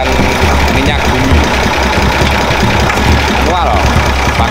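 Engine driving a manual bucket oil-drilling rig, a loud, steady, knocking mid-pitched drone close by, with a person talking over it.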